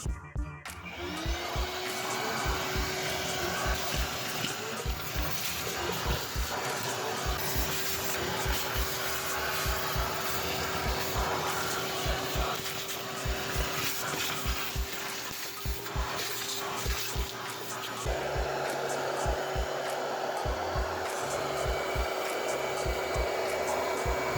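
A vacuum cleaner whines continuously at close range inside a car, its steady motor drone broken by repeated bumps and rattles as the nozzle moves around the interior of a Toyota AE86 with a KA24 engine.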